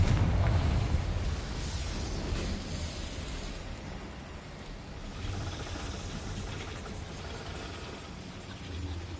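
A rumbling blast from a Confringo spell in a video game swells loudly at the start, then fades into a long, low crackling roar that lingers and stays steady to the end.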